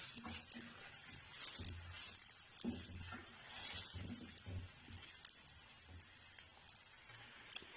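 Whole cumin seeds sizzle faintly in oil, a soft crackling patter with light stirring scrapes, quiet and close without any speech.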